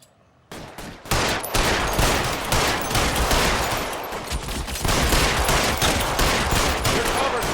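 Heavy gunfire in the crime game L.A. Noire, a sustained barrage of loud overlapping shots and machine-gun bursts that starts abruptly after a short quiet moment and continues without letup.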